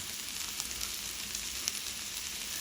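Pork sizzles and crackles steadily on a hot Thai tabletop grill, a continuous hiss with small pops scattered through, fairly quiet and without voices.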